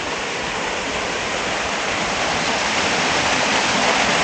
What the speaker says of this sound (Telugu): చూడండి ఇక్కడ చిన్న మినీ ఫాల్స్,